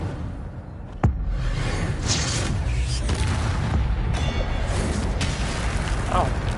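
An Incendio fire spell bursts in Hogwarts Legacy, opening with a sudden sharp boom and then a steady roaring, rumbling rush of flame that carries on to the end.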